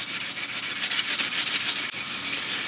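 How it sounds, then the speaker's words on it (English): Steady, close rubbing strokes of 400 grit sandpaper on the wooden stock of a Traditions St. Louis Hawken rifle, a dense rhythmic scratching with no voices. "the highest that I'm going to take this is about a 400 grit sandpaper"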